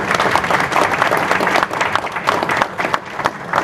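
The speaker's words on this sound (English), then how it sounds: "I think a round of applause for our 2 vocalists." A crowd at a change of command ceremony applauds two vocalists with loud, dense clapping that carries on for several seconds and tapers off slightly toward the end.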